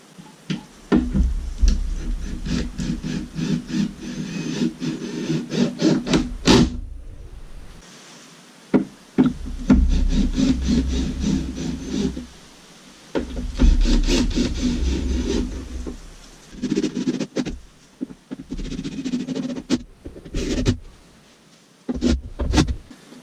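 Pilot screws driven into a wooden breasthook on an 18-foot sailboat build, heard as repeated bursts of close, grinding driver whir and wood rasping, separated by short quiet pauses and a few sharp knocks.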